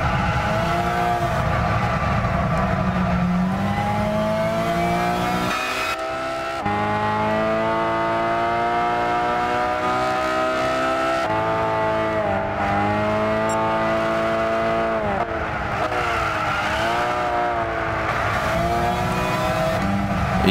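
A race car in Gran Turismo 6 revs hard, its engine note climbing and dropping through repeated gear shifts, loud and close, with no talking.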